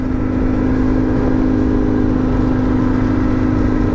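A 1989 Ténéré 750 motorcycle engine runs steadily at a constant idle with a deep, even hum that sounds much like a small car, continuous and close for the whole stretch.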